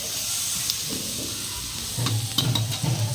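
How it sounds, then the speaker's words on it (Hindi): Bhujia sizzles in a hot pan while being stirred slowly, a steady hiss of frying with a few clinks and scraping strokes toward the end, close and clear. "भुजिया और इसको हम धीरे धीरे भूनेंगे क्योंकि एक बार भूनेंगे तो ये जल भी सकता है।"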